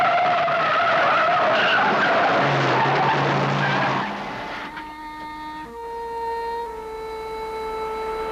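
A speeding car's tires squeal loudly in a long, wavering skid that cuts off abruptly, leaving sustained, steady high tones ringing afterward with no voices present.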